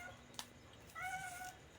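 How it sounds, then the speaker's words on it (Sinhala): A domestic cat gives a single drawn-out meow after a brief tap, fairly faint and nearby in a quiet room with no talking. "මේ පූසා ඔක්කොට වැඩි කෑ ගන්නවා"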